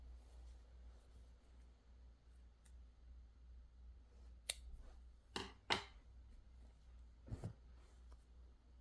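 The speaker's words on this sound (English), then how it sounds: "So I'm going to cut my yarn here." A few sharp, close scissor snips cut through crochet yarn, quiet and isolated against a faint background hum, with no talking.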